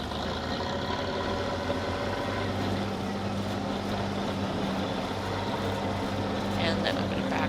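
A tractor engine idles steadily in Farming Simulator 22, a constant low droning hum with a faint tonal whine that holds evenly throughout, close and fairly loud, with a slight lift near the end.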